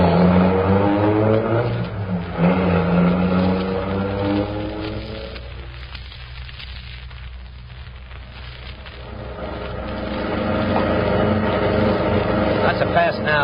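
A getaway car in a vintage radio crime drama revs and accelerates, its engine roar loud and steady, dipping briefly in the middle before surging again, mixed under dramatic voices.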